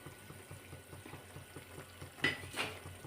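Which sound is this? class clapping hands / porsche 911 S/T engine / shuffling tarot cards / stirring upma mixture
stirring upma mixture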